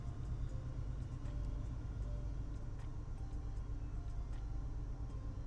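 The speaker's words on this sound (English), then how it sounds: "It has a lovely sound, engine sound." A steady low diesel drone from an MBTA commuter locomotive in Train Sim World 5 hums continuously, with faint clicks over the rumble and no voices.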